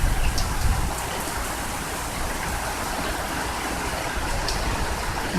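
Heavy rain pours steadily during a Tampa thunderstorm, a dense, even hiss of water on roofs and surfaces with a few faint splashy ticks, continuous and fairly close with no voices.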